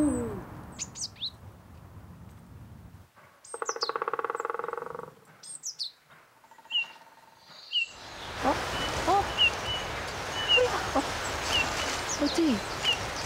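Wild birds chirp and call along a small forest footpath on a hillside, with scattered high tweets near and far, a short buzzy trill midway, then a denser chorus of calls over a faint hiss.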